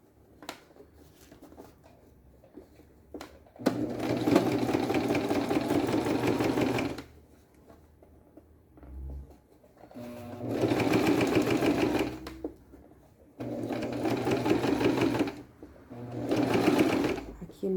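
A sewing machine stitches a beach bag in four loud, close bursts of fast mechanical whirring several seconds long, with quiet gaps between them where someone speaks Portuguese softly.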